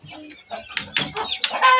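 Aseel hens clucking and squawking in a quick, busy run of calls, close by, with a faint murmur of voices in the background.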